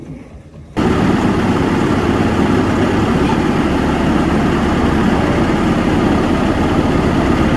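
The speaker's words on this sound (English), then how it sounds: "Tractor number 2." A farm tractor's diesel engine idles steadily and close by, a continuous low rumble with vibration that starts after a brief quiet moment and holds level throughout.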